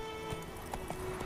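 Hoofbeats of a horse in The Witcher 3: Wild Hunt, a few soft clip-clops spaced out over steady game ambience, with no voices.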